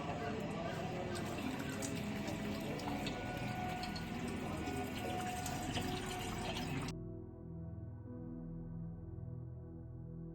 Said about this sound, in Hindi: अभी हम थोड़ा थोड़ा पानी इसमें भरने का प्रयास